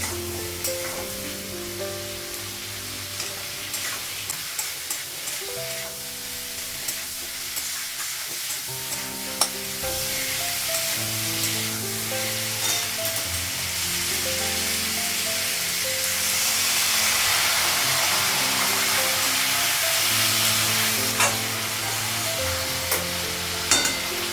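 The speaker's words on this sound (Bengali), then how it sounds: "কষা নিলে মশলাগুলো, তারপর ফুলকপিটা লাগাবো।" Spices and cauliflower fry in a pan with a constant hissing sizzle that swells louder partway through, broken by occasional stirring knocks, close and without voices.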